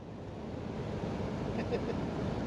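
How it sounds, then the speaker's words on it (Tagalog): Nutimic waterfall roars as a broad, steady wash of falling water, heard outdoors with some wind buffeting the microphone and no clear voices. "Ito yung sinasabi nilang waterfalls."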